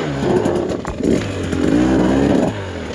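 A TE300 two-stroke motorcycle engine revs loud and close, its buzzy note rising and falling in several bursts with clattering and scraping from the bike, no talk.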